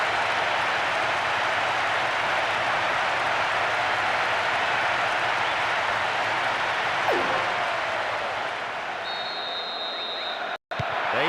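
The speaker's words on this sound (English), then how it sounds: "The stadium is shaking because they're jumping up and down and making so much noise." A steady roar of stadium fans in the PS2 football game PES 2009 cheers after a goal, loud and sustained for the full length, with a brief sharp cutout near the end.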